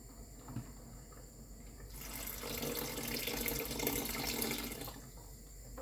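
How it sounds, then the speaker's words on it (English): Water runs from a tap for a few seconds while a chicken, ham and leek pie filling is being cooked, a steady splashing stream that starts abruptly and then stops, with quiet kitchen background before and after. "I think I might add some more, just a touch more water."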